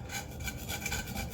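A scraper working rust off a cast iron skillet, giving a brief, close run of rhythmic scraping strokes, rough and gritty, with no talk.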